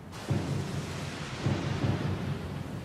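A thunderstorm rages at sea in Pillars of Eternity II: Deadfire, with rolling, booming thunder in several heavy swells over a constant wash of rain, loud and close, without any talk.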